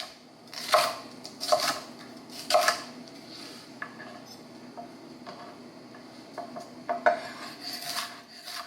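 A knife cuts food on a cutting board while preparing shrimp and grits: a few sharp, close knocks come in loose bursts, with quieter scraping and handling noise between them.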